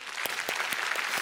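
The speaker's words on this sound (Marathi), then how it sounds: "दोघांसाठी आणि मंडळाच्या बँडसाठी जोरदार टाळ्या" Studio audience applause for two singers and a band on a Marathi TV music contest show, a steady patter of clapping running under the host's voice, with a few sharper claps standing out in a regular rhythm.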